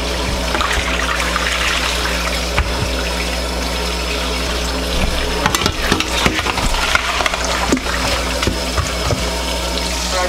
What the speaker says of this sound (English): I'm just gonna let the water run until the milk runs out